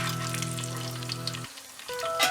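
Cashew nuts and raisins fry in hot ghee for a peanut payasam, a steady close sizzle that cuts out halfway and then resumes more quietly, with a brief clatter at the end.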